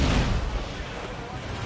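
Ship cannons firing in Assassin's Creed 4 Black Flag during a sea battle, a heavy booming blast at the start that rolls into a dense, rumbling roar, loud and close, with shouting voices mixed in.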